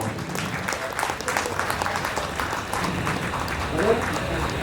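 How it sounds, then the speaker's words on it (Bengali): An audience applauds for a performer at a Durga Puja cultural evening, with dense, steady clapping filling the space at moderate loudness. "জোরে হাততালি হবে আমাদের প্রিয় ইন্দ্রাণীর জন্য।"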